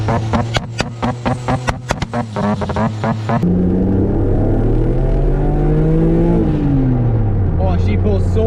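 A car with a KFDE engine accelerates hard in second gear. Choppy, bursty engine noise gives way to a sustained rising drone that climbs in pitch, shifts, and builds again, heard from inside the car with voices over it.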